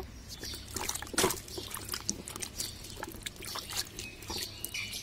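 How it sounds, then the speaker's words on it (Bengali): An eggplant (brinjal) is rinsed under running water in a village kitchen, with uneven splashing and trickling and a few louder bursts where the water hits the vegetable. "এই বেগুনটাকে এখন আমি ধুয়ে নেব।"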